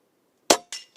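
PCP air rifle fitted with an AR15 tactical conversion kit firing two sharp, close shots about a quarter second apart, each a crisp crack with a short decay, in otherwise near-silent surroundings.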